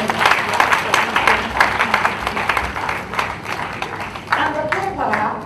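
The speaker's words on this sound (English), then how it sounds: "Please, a round of applause for him." A conference audience at UNILAG applauds the Vice Chancellor with dense, sustained clapping that fills the room, while a voice speaks over the applause.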